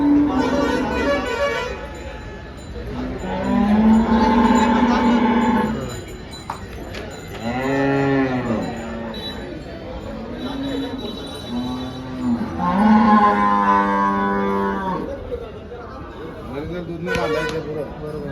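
HF and Jersey dairy cows at a busy cattle market in Dhule low loudly in several long, drawn-out moos, with people talking in the crowd throughout.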